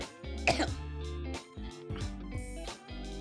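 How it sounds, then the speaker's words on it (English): A person coughs and clears their throat several times in a quiet indoor setting, with short rough bursts spaced across a few seconds, close and fairly loud. "the occasional coughs that come on"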